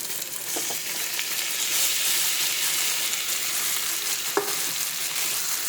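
Food frying in a pan and being stirred, producing a dense, steady sizzle throughout with a few faint spoon scrapes and one sharp tap, close and continuous.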